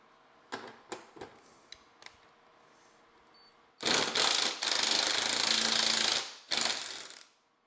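A 10 mm bolt comes off a 42-inch John Deere mower deck, with a few sharp clicks and then loud, close bursts of an impact driver or ratchet buzzing for several seconds.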